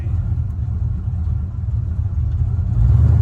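A car engine idles rich with a steady, loud low rumble that swells slightly toward the end, with no voices over it.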